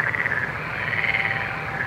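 Frogs croak as a sound effect in a children's story podcast, a steady dense chorus of rapid rattling croaks, fairly loud and continuous with no talk.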